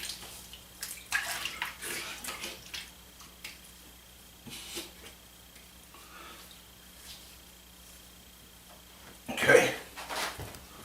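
Running water splashes in brief bursts as a Philips OneBlade Core razor is rinsed at a bathroom sink, close by and moderate, with faint background hum and no clear speech.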